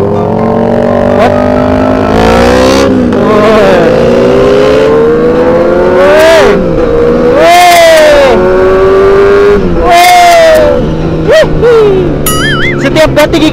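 Modified Kawasaki Z800 motorcycle accelerating hard, engine pitch climbing and dropping with each quick gear change, loud and close with a steady throaty roar throughout.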